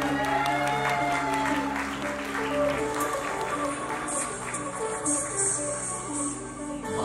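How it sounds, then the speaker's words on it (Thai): Audience applause fills a hall at the Mister Supranational Thailand 2019 male pageant, a steady sustained clapping with crowd noise and a PA voice over music underneath. "ขอเสียงปรบมือให้หมายเลข"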